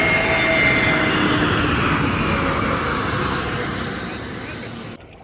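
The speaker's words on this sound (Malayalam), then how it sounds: "ഇവിടെ ഫ്ലൈറ്റ് വരുന്നതുണ്ടോ?" An airplane passes overhead near a pool, a broad continuous engine roar that slowly fades over several seconds before cutting off, with no speech over it.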